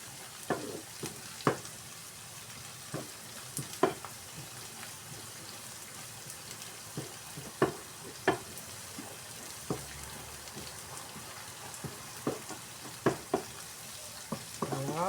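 Onion and garlic frying gently in fat in an old pan, a soft continuous sizzle with scattered crackles and pops, fairly quiet and close with no talking.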